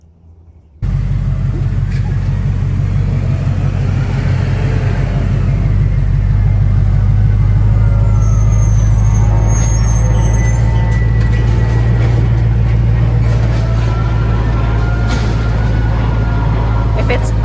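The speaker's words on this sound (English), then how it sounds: "It's an airplane and a trash truck." An airplane overhead and a trash truck passing close by blend into a loud, steady low rumble of engines and drone that stays heavy and continuous throughout, with faint hiss and clatter above it.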